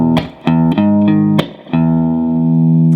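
Electric guitar playing a riff in power chords, a series of sharp, loud chord hits in a steady counted rhythm, ending in a long ringing chord, close and alone with no talking.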